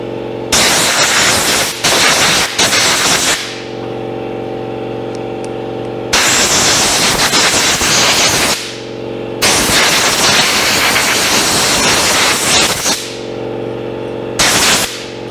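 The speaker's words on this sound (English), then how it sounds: "I'm going to blow this fan out" Compressed air blasts dust out of a Suburban furnace fan in three loud hissing bursts, each lasting a few seconds, separated by a steady motor hum.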